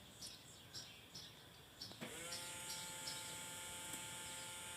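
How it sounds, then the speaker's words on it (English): A car's electric fuel pump runs with a steady whine and hum after switching on, faint and continuous beneath a background of outdoor bird chirps, with no one speaking. "I'm sure you could hear that pump running right now,"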